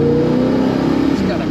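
A 1966 Plymouth Barracuda Formula S with a 273 cubic inch V8 revs with a steady throaty drone from inside the car, the engine note holding fairly constant and loud throughout.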